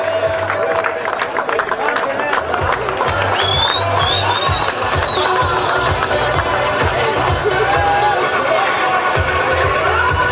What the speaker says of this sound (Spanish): ¡Aplauso para estos campeones!